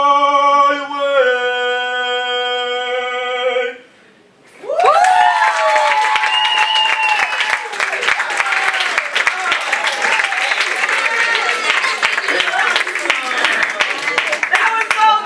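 Applause and cheering from the crowd at a graduation dinner, following a few seconds of sustained musical tones; after a brief dip the clapping swells and carries on steadily with shouts and voices mixed in.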